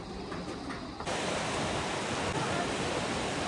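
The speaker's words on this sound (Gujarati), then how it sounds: "જ્યાં બે નદીનો સંગમ થાય ને ત્યાં, અલકનંદા અને ભાગીરથી" Roaring river water at the confluence of the Alaknanda and Bhagirathi rivers, a loud, steady, dense rush that grows even stronger and fuller after the first second, with no voices.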